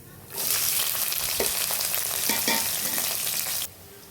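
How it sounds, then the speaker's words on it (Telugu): Cumin, mustard seeds and chopped onions hit hot oil for a broad bean curry, bursting into a loud, steady sizzle that lasts about three seconds with a few soft stirring clinks, then cuts off abruptly. "ఆయిల్ వేడెక్కిందండి. జీలకర్ర, ఆవాలు, ఉల్లిపాయలు,"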